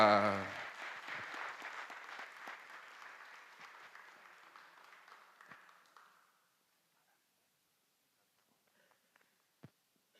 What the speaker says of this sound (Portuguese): Vamos aplaudir nosso Senhor Jesus e nossa Mãe Maria.